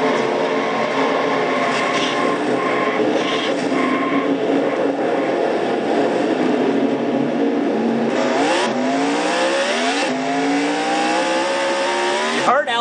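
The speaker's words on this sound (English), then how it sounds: "You heard Alexander kind of over revving the motor." Race car engine roaring steadily in an oval racing video game, then over-revving with rising, climbing pitch sweeps near the end as the motor screams higher.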